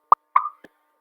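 A sped-up Scratch pop sound effect: a quick sharp pop, a slightly longer bubbly pop, then a faint final blip, all within about a second against silence.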